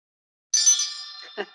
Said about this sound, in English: we have a little bell. We could let you hear it.